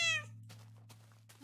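A cat gives a single short, clear meow right at the start, close and fairly loud, followed by quiet room hum with a faint rustle.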